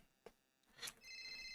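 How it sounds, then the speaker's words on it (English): Video game phone ringing with an incoming call: a soft click, then a brighter chirp followed by a steady electronic ring tone that holds on, quiet and alone with no talk. "I'm actually getting a phone call."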